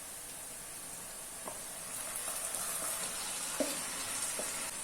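Marinated chicken goes into golden onions that have fried over a medium flame, setting off a steady, close sizzle and hiss with a few faint clinks of stirring.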